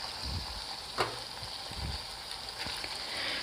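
Tomato pieces with ginger garlic paste frying in a pan, a soft continuous sizzle with scattered light scraping and stirring knocks, close and steady with no voices.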